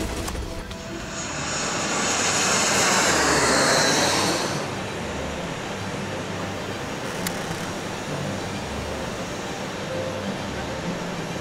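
A propeller or jet airplane engine roars steadily while the plane gyrates, with a loud rushing swell that peaks and then eases into a constant drone.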